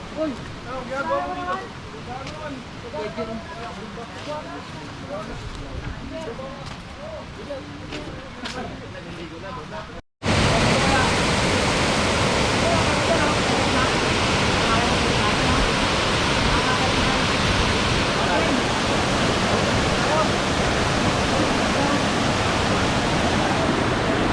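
Hanap Falls, a waterfall in Buhawen, San Marcelino, Zambales, heard first at a distance beneath talking voices, then after a sudden cut as a loud, close, steady roar of rushing water filling the whole scene.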